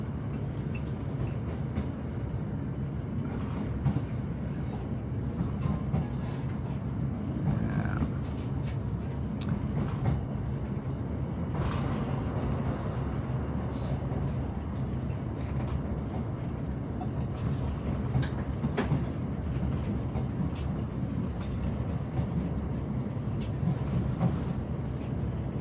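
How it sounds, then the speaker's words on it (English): Steady low rumble of a train rolling into Carlisle station, a continuous rail hum with faint clunks and rattles throughout, heard from inside the carriage with no talk. "just coming into Carlisle station"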